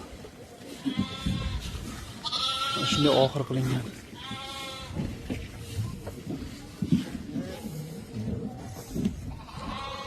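Sheep and young lambs bleat repeatedly at a farm pen, several overlapping calls near and far over shuffling and rustling, with someone talking through much of it.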